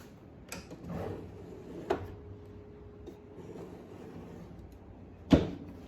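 Kitchen island drawers sliding open and shut, with soft thuds and a sharper knock near the end, close by in a quiet room.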